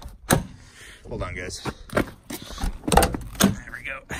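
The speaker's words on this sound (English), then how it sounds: "If I can get the door to open." Door of a lifted 1-ton Range Rover Classic fitted with a full cage is worked open with a few clunks and latch clicks close by, while someone talks over it.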